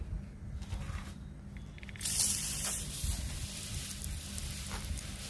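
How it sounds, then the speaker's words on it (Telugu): A hand sprayer misting okra plants against mealybugs outdoors, a steady close hiss swelling after a couple of seconds over low background rumble, with no talking. "స్ప్రే చేసుకుందాము."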